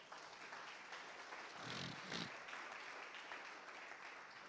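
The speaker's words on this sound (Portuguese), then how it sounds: "Aplauda o Senhor" Church congregation applauding during a sermon, a soft, continuous patter of clapping that swells briefly in the middle before settling again, faint and distant.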